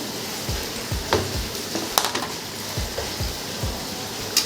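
Raw papaya paste and onions fry in a pan with a continuous loud sizzle, broken by soft, irregular knocks and scrapes of stirring.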